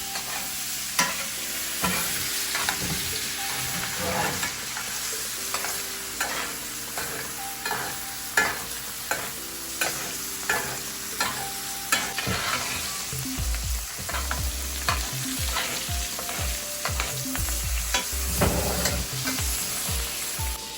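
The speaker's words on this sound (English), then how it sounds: "you stir with a spoon on top of the meat" NY strip steak frying in a pan, a constant loud sizzle overlaid by regular scraping taps as a spoon stirs and bastes over the meat.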